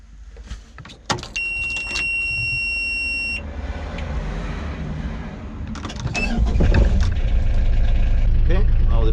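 A mini excavator fitted with Digpilot 2D machine control powers up, with an electronic beep and tonal buzz followed by the engine building into a loud, steady low rumble, while a person talks over it.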